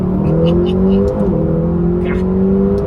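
A 2020 McLaren GT's 4-litre twin-turbo V8 with flat-plane crank accelerates, its loud steady engine drone rising in pitch with a brief gear-change dip midway, heard close with no talking.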